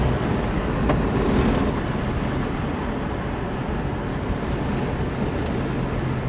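A bagged minitruck drives along a road at about 35 mph, with a steady broadband roar of road and wind noise and faint engine hum underneath.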